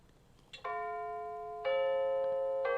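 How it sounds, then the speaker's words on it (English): Bells chime in three sustained, ringing strikes about a second apart, each tone lingering into the next, heard clearly over a quiet indoor background with no talking. "And now there's my bells."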